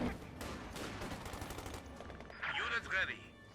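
Rapid rifle fire from Jaeger infantry in a Company of Heroes 2 two-versus-two match, crackling volleys and bursts after a stretch of commentator talk.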